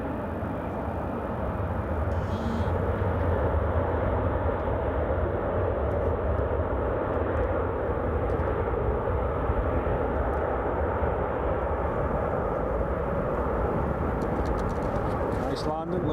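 Saudia Airlines Boeing 777 landing and rolling down the runway at Newcastle International Airport, a loud steady roar of engine and wheel rumble that holds throughout.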